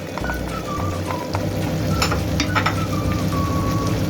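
Butter melting into a hot, sizzling tomato sauce for İzmir köfte, a steady close frying hiss with light stirring scrapes and faint beeping tones in the background, no voices.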